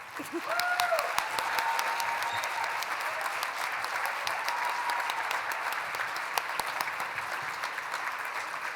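A large banquet crowd at a Junior Achievement Business Hall of Fame event gives the students sustained applause, a thick, even roar of clapping that holds steady at a constant level throughout, with faint tonal sounds briefly rising in the background.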